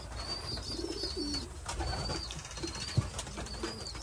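Young pigeons coo softly and repeatedly in a bird loft, low throaty murmurs rising and falling close by, with faint high chirps and a brief flutter of wings.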